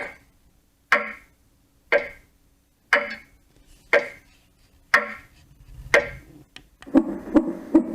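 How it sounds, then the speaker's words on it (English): A roffie N600 white noise machine plays a ticking clock sound, evenly spaced crisp ticks about once per second, near and clear, with a few faster clicks at the end. "Clock."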